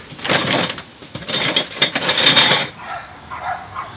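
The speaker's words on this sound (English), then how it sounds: "Dogs are freaking out at something." Several dogs bark in excited, irregular bursts close by, overlapping yaps and barks with short gaps, then fading to quieter yelps.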